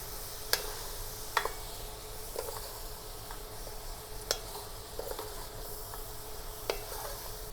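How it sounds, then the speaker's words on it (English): Garlic and ginger frying in a pan for black pepper beef, a soft steady sizzle with occasional sharp clicks of a utensil stirring, fairly quiet and close, without speech. "And then we're gonna do the garlic. Then we're gonna put in the ginger. Stir that around."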